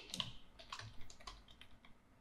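Keys tap on a Windows computer keyboard in a few quick, quiet clicks, close but soft and irregular, with nothing else in the background.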